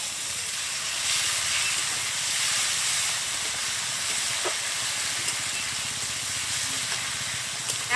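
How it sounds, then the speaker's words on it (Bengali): Chopped tomatoes frying in a pan with small onions give off a steady hissing sizzle from start to finish, with a few faint pops and ticks. "ছোট পেঁয়াজ, এখন এর মধ্যে দিয়ে দেবো টমেটো কুচি।"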